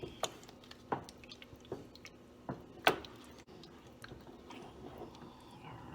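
Soft, wet squishes and sticky clicks come from homemade meatballs being turned through thick red sauce in a pot, irregular and quiet with short gaps between stirs.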